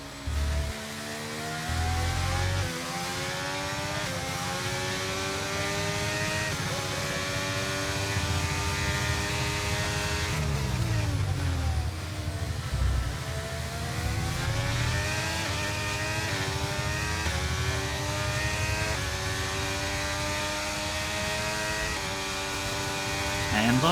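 F1 car engine at the Austria sprint race in F1 23, a loud high-pitched whine climbing repeatedly through gear shifts, with one sharp dip and re-rise midway, running steadily throughout.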